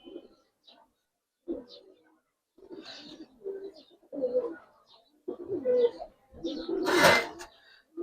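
Giribaz pigeons kept at home coo in a series of soft, throaty calls close by, with short pauses between them.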